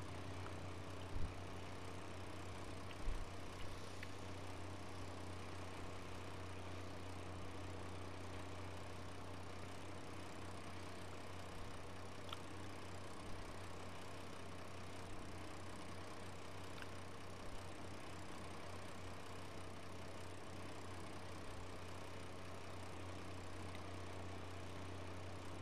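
Tractor engine in the Farming Simulator 19 video game idling steadily at night, a constant low hum with a few faint clicks and no speech over it.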